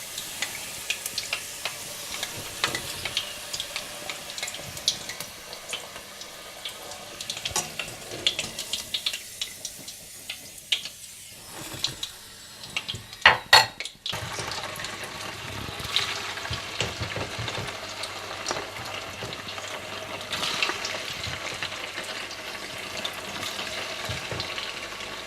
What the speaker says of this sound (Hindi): बाकी चिकन भी आप इसी तरह से फ्राई कर लीजिए